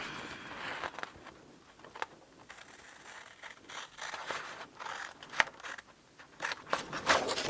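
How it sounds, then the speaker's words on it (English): Scissors snipping through a paper page for a gift bag craft, a series of crisp, close cuts with uneven rhythm and soft rustling between strokes, no talking. "I'm going to use scissors."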